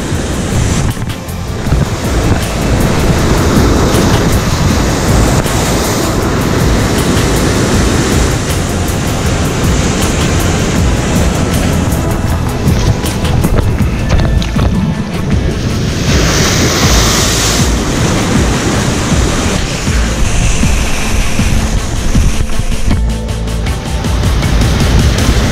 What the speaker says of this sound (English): There's some real big swell coming today.